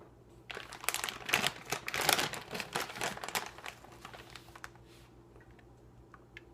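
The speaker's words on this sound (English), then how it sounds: "and I'll put a piece of foil over it too." Aluminum foil crinkles and rustles in a burst of close, crisp crackling as it is pressed over a baking dish of chicken enchiladas, then tapers to a few faint ticks.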